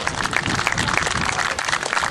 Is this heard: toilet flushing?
no